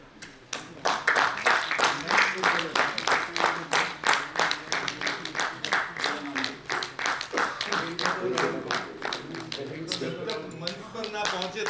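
Audience applause at a national convention session as a distinguished guest walks onto the stage: sustained dense clapping from a crowd, steady and fairly loud for several seconds, with some voices mixed underneath.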